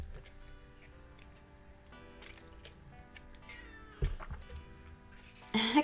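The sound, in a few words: domestic cat meowing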